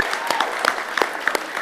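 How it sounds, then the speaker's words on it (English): Audience applause at the Excellence in Volunteering Awards ceremony, a steady dense clapping from a sizeable crowd with a few sharper nearby claps standing out, sustained without talk. "One more round of applause for Victoria."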